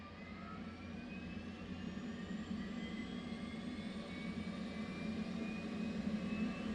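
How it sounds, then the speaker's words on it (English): The auxiliary power unit of an F/A-18C Hornet in the DCS World flight simulator spools up, a faint, steady rumble with thin whining tones that slowly rise in pitch. "you should hear the APU start to spool up"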